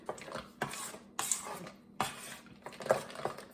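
A spoon clinks and scrapes against a bowl while pumpkin waffle batter with chocolate is stirred, giving soft, irregular taps and knocks at close range with no talking.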